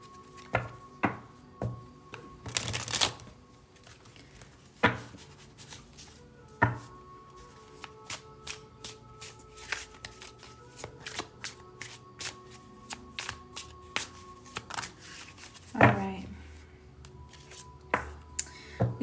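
Tarot cards are shuffled and handled in irregular bursts of crisp riffles and sharp taps, close and fairly quiet, with no talking.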